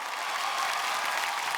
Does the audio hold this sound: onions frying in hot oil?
no